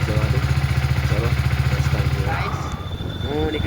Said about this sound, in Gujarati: બાઇક ગરમ થાય છે જુઓ અહીંયા.